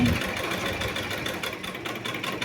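A sewing machine runs steadily, stitching a frill onto a chudidar pant, with a close, continuous mechanical whir that keeps up for the whole stretch without pause.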